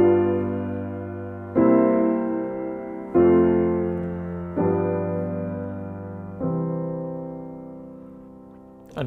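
Final chords of Bach's Prelude in C, Book 1, heard again as a keyboard plays about five slow sustained chords, each ringing and decaying in turn, with nothing else audible.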